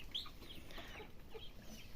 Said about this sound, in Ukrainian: Отак кури мої харчують